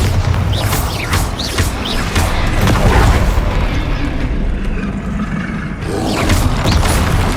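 Bombarda spell explosion in the Hogwarts Legacy video game, a loud sustained booming blast with crackling bursts and rumble, continuing over several seconds of dense battle noise.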